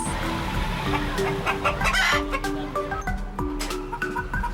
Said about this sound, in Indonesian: Ayam sultan berasal dari negara Turki, lalu beradaptasi dan berkembang biak di negara Indonesia